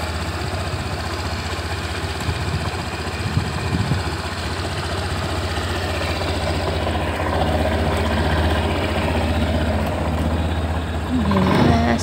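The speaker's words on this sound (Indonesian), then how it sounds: "Ini kita coba starter ya guys, suaranya seperti ini." A new 2021 Honda Scoopy scooter engine runs at a steady idle after starting, a close, even low hum with light mechanical vibration and a brief louder burst near the end.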